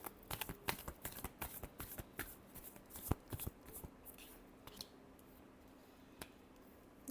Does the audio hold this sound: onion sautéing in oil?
no